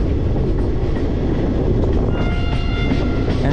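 Train of the 17046 Anakapalle–Charlapalli express line at a station platform, a loud, steady rumble of wheels and carriages on the rails with a faint tonal whine emerging partway through.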